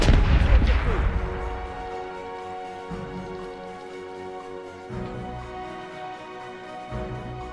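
Cannon fire in a naval battle video game, with a heavy booming blast at the start followed by lingering rumble and further distant shots under a layer of game music.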